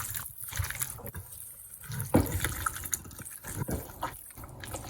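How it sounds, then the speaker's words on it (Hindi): Fish pieces being mixed by hand in a wet marinade for biryani, giving close, soft squelching and sloshing sounds with irregular wet slaps and drips. "अच्छी तरह से इसको हमने मिक्स कर दिया"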